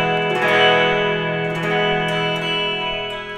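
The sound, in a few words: electric guitar with chorus and reverb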